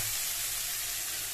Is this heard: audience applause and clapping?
no